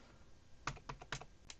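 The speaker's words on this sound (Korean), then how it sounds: "미세 이동할 때는 키보드가 편하니까 Shift 키 누른 상태에서" Someone types on a computer keyboard, holding Shift and tapping the arrow keys. Several distinct, close key clicks come in an uneven rhythm over a faint steady hiss, with no talking.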